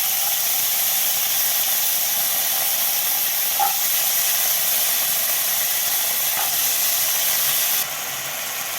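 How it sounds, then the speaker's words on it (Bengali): Diced potatoes fry in a pan with a steady, even hiss of oil that runs unbroken throughout, marked by a couple of faint clinks and a slight drop in level near the end. "আলু দুটোকে আমি ভালো করে ভেজে নেব"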